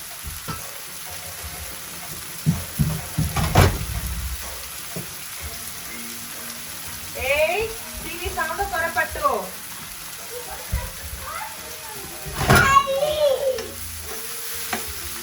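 Chopped onions cooking in an oil-filled pan for a masala fish curry, a soft sizzle with occasional scraping stirs and clinks of a spoon, while someone talks intermittently over it.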